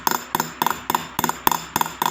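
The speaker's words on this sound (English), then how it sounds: "take care to punch and hammer the metal towards the scissored stones with extra care" A small hammer strikes a punch in a steady rhythm, pushing ring metal over set stones, each blow a quick cluster of two or three bright metallic taps, close and distinct, with no talking.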